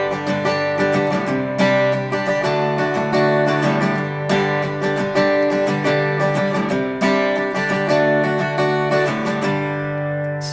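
Acoustic guitar strummed in the second, two-bar pattern of a song, a steady, full-bodied rhythm of ringing chords played close and continuous with no voices.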